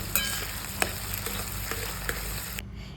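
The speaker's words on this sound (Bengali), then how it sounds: "তারপর একটু পেঁয়াজটা আমি ভেজে নেব।" Sliced onions frying in a pan give a steady close sizzle with a few sharp spatula scrapes and taps, ending abruptly near the close.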